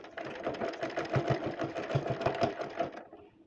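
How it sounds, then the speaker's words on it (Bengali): A sewing machine stitches the elastic waistband closed on a small child's pants, running in steady rapid bursts for about three seconds before stopping, close and fairly loud with no voices. "এখন এখানে সেলাই করে দেব"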